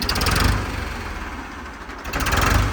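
A Ford 3600 tractor engine runs at a steady idle nearby, producing a low, even rumble with no voices over it.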